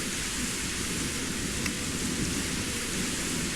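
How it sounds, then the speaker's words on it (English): Heavy rain and wind from the video game The Innocent Luna: Eclipsed Sinners, a dense, loud, continuous downpour hiss with a rushing wind roar, steady from start to finish. "The wind roars as fierce rain pours down. The heavy rain can be heard far and wide,"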